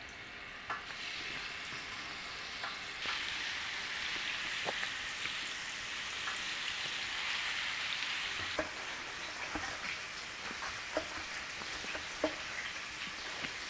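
Pork frying in a hot buttered pan with apples, a steady crackling sizzle that swells as the meat goes in, with scattered pops and spatters and no talking.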